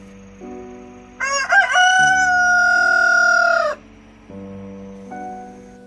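A single rooster crows one long, loud call lasting a few seconds, rising clearly above soft, steady background music.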